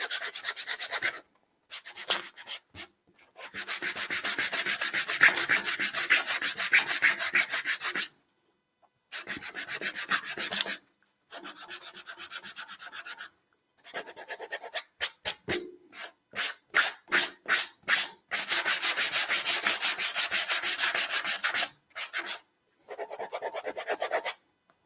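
Sandpaper is rubbed with the grain over lacquered wood in long back-and-forth strokes, a close, dry rasping in bursts broken by short pauses, with some rapid quick strokes near the middle and no talking.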